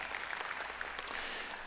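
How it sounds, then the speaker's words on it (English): An audience claps in a church-style gathering, a brief, steady wash of applause from many hands at moderate distance with no talk. "those of you who are clapping, I should have told you this before you clapped"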